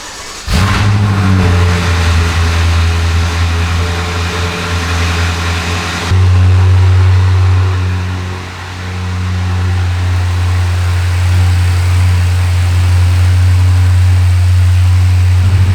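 A BMW F10 M5 with freshly changed spark plugs cranks and fires at about half a second, then settles into a loud, steady idle. Around six seconds the engine note shifts lower and heavier, dips briefly near eight seconds, and keeps running alone with no talk.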